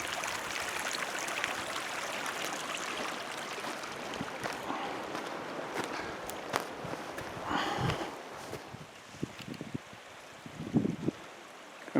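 A wilderness creek flows steadily with broadband rushing water close by, joined by scattered knocks and footstep-like rustles in the latter part.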